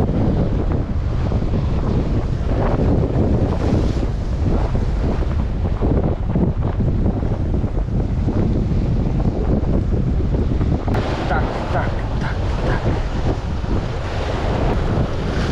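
Strong wind buffets the microphone over the steady wash of rough sea waves off the island of Thasos, a continuous roar that grows slightly busier near the end.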